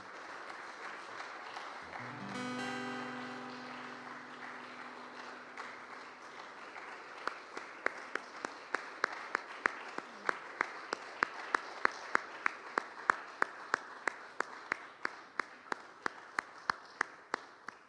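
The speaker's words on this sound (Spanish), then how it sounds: "Dale un aplauso a tu Rey." A church congregation applauds at a worship service. A brief tone opens the clip, then a steady wash of clapping builds into sharp, rhythmic, in-time claps that continue to the end.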